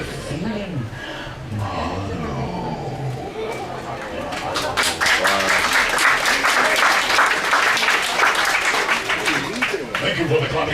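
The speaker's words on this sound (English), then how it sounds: "Thank you for the clapping action." An audience breaks into loud, sustained clapping partway through, following a stretch of someone talking; dense applause fills the rest with some voices mixed in.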